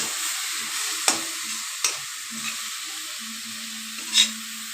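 Mixed leafy greens sizzle steadily in a pan over a gas stove, with a few sharp clinks and scrapes of a spatula stirring, close and quiet with no talking.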